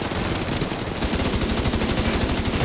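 A deployed turret in The Division 2 fires continuous rapid automatic bursts, loud and close, the rate picking up partway through, with no talking over it.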